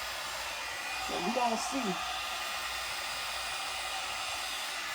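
A one-step hot air brush drying and straightening curly hair gives a steady, loud blowing whoosh that runs the whole time, with a voice briefly heard over it.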